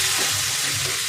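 Chopped tomato dropped into spices frying in a pan for egg omelette curry, a loud continuous hiss and sizzle close up, brief and steady.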